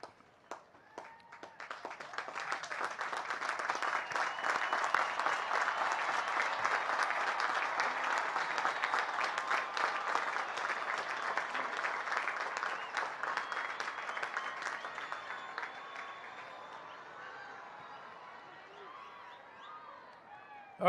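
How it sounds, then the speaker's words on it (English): Graduating cadets at the United States Military Academy applaud their families, the clapping swelling within a couple of seconds into a broad, sustained roar of many hands before gradually thinning and fading toward the end. "give a big round of applause to your families"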